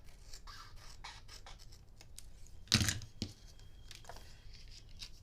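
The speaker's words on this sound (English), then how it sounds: "Just going to trim a tiny bit off" A small strip of clear acetate is trimmed for a slimline window card, with light scratchy cutting and one louder, brief snip-and-rustle burst in the middle, close and quiet, with no voice.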